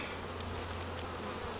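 Honeybees in the small nucleus hive of a weak swarm, a soft, dense buzzing drone heard up close and steady throughout, with no voices.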